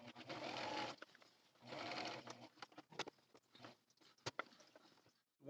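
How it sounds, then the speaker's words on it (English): A sewing machine runs a wide zigzag stitch at short stitch length on a drawstring project bag, two quick close bursts of rapid mechanical whirring, then scattered light clicks and taps as it stops. "When I do my zigzag stitch across here, I use a very wide stitch and then I use a very short stitch length."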